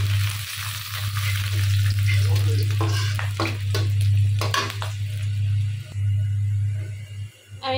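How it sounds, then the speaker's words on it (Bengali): Dried fish curry cooks in a pan with a steady, loud sizzle and sputter, broken by several scraping stirs, over a constant low hum. "আমি এখানে আমার শুটকি তরকারিটা বসায় দিতেছি।"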